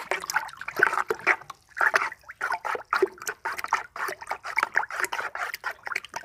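A mixture stirred by spoon in water, giving rhythmic liquid sloshing and trickling strokes in quick repeated bursts, close up and moderately loud with no talking.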